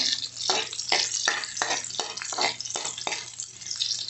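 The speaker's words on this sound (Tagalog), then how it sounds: "Sinangkutsa ko lang itong ating bawang at luya." Garlic and ginger sauté in a hot pan while a utensil stirs and scrapes at a steady rhythm, giving repeated brushing strokes over a continuous crackle, close and clear.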